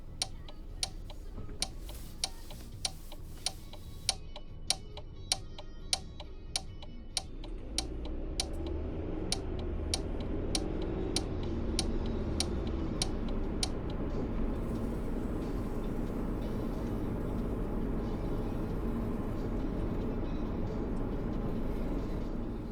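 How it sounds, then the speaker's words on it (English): A car's turn indicator ticks steadily while signalling a right turn in British traffic, a regular close click that continues as engine and road noise swell beneath it. "Indicator on because I'm turning right. You should hear the clicking sound as it flashes"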